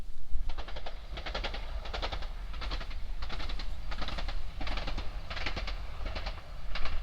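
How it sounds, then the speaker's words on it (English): A train rolls past at a steady pace in rural Norfolk, England, its wheels beating out a regular clickety-clack rhythm over a constant low rumble. "There you can see the train. It's now going past North Mill"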